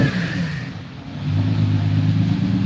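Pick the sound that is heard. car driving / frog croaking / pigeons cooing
car driving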